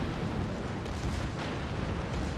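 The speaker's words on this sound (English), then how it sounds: "Pommern about to take its shots." Battleship Pommern's main guns in a naval video game rumble as a dense, continuous roar of heavy booming fire, loud and steady with no speech.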